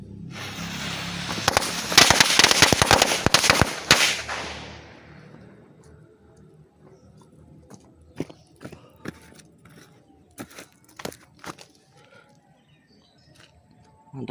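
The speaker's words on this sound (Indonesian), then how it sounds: "kita nyalakan petasan mini woodpecker" Mini woodpecker firecrackers from a red packet go off in a rapid, loud, close crackle for about four seconds, followed by scattered sharp pops and faint rustling.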